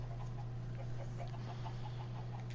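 Chickens on a Minecraft chicken farm give soft, scattered clucks over a steady low mechanical hum, faint and continuous throughout.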